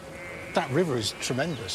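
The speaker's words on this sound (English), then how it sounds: "there are some sheep over there" Sheep bleat twice in the countryside in spring. The calls are wavering and fairly close, and a person speaks over them.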